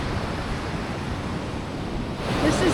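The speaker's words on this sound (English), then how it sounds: "It's just me and some birds, the waves." Ocean surf on an empty beach in Chile, a steady broad roar of waves with wind, swelling slightly louder near the end.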